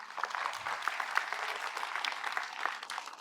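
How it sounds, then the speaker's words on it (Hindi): Applause from a hall of medical students at an exam-preparation seminar, steady dense clapping heard at moderate distance for a few seconds. "इस बात के लिए ताली बजाओ"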